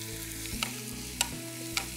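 Onions and green chillies fry in oil on a tawa with a steady, close sizzle, broken by three short clinks of a stirring spoon against the pan, and no voices.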